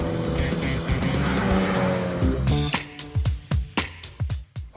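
A 2019 Mini John Cooper Works driven hard around a race track at Chennai, its engine roaring steadily, then a run of sharp repeated bursts as it shifts and the tyres squeal, loud and close, with no talk.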